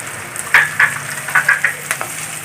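Sliced onion, green chilies and curry leaves fry in a pan for a chicken curry, with a steady sizzle broken by several close, sharp stirring scrapes and spatters.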